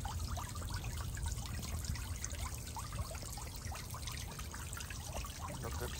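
Water trickles and splashes steadily into a garden fish pond, a constant close babbling with no pauses.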